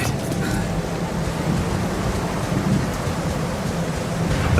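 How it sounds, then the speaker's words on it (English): Steady rain pours down in a dark, gray outdoor scene in the video game The Alters, with a low rumble of thunder mixed into the continuous hiss, alone and without voices. "It's raining."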